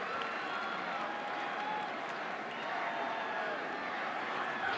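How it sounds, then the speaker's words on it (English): A stadium crowd at a 2018 Air Force at Utah State college football game roars in a steady, distant wash of cheering and applause that holds at an even level throughout. "Got the crowd fired back up."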